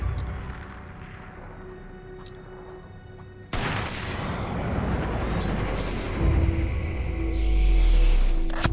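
A sniper rifle fires a headshot in the video game Sniper 3D Assassin: a sudden sharp report cuts through a quiet hum, followed by a long rumbling tail that swells toward the end.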